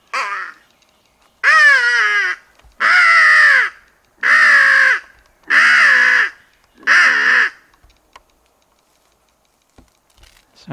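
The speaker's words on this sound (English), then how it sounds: "Sounds like a bird in distress." Five loud, harsh raven-like caws, each drawn out and evenly spaced, ring out close by, then fade to quiet, sounding like a bird in distress in a swamp.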